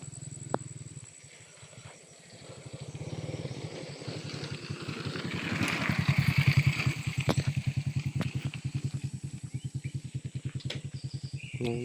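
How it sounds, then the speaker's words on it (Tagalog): A motorcycle engine passes by outdoors, its pulsing putter rising to a peak around the middle and then holding close, with faint bird calls in the background. "May dumadaan motor."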